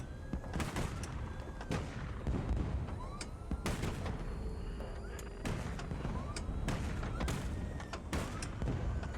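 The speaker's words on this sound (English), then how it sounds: "Have the good sense to explode already. Target destroyed." A destroyed target explodes in the combat game Highfleet, heard as heavy booming blasts and cracking impacts over a constant loud rumble of battle noise, repeating several times across the stretch.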